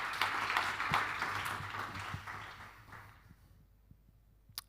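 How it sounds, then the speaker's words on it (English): Conference audience applauds after a paper session talk, a dense burst of clapping that starts full and gradually thins out to scattered claps before stopping. "A round of applause"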